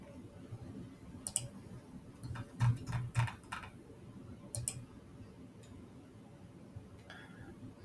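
Computer mouse clicking during modeling work in Fusion CAD software, several sharp close clicks in short irregular bursts over a quiet room background.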